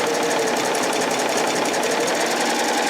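A Baby Lock Triumph serger stitching a rolled hem with Maxi Lock Stretch thread, a loud, close, fast and even mechanical whir running continuously without pause or talking.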